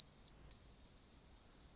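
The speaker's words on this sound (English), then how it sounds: "put the points of the tester together, it beeps" A steady high-pitched beep from an electrical tester with its probes touched together, briefly interrupted by a short gap, then continuing as a clear sustained tone over near silence.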